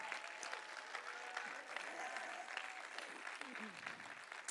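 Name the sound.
audience applause in church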